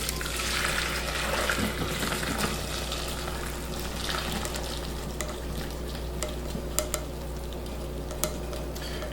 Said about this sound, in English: I'll go ahead and get this into a strainer.